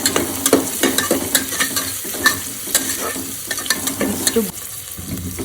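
Curry leaves and onion frying in a pan, a steady close sizzle broken by repeated sharp scrapes and clicks of stirring, with one brief word spoken.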